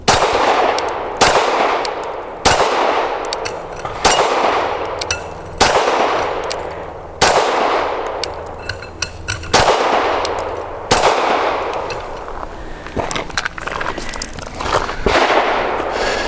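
Sig M17 X Change pistol firing eight rounds, loud sharp reports spaced roughly every one to two seconds, each followed by a short ringing decay at an outdoor range.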